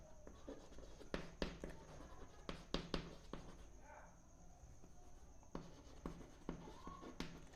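Chalk or marker writing on a board during a physics lecture, quick taps and strokes in clustered bursts with a pause in the middle, close and fairly faint against a quiet room.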